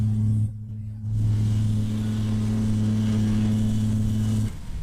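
Triumph Scrambler 400 X motorcycle engine revving hard in São Paulo traffic, a loud steady droning tone that briefly dips as it shifts gear, then holds before cutting off.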